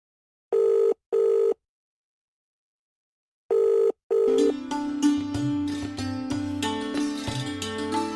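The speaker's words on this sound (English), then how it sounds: "Ever noticed the mobile phone vibrating when it rings?" A telephone rings in two short double bursts separated by a gap, loud and close, and then music begins after the second burst.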